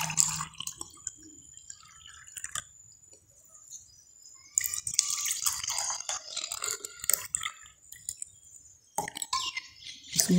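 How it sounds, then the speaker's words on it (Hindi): Water poured from a container into two glasses in a kitchen, heard as intermittent splashing and trickling bursts with drips between them, close and fairly quiet, separated by silent gaps. "अब हम इसमें पानी डालेंगे"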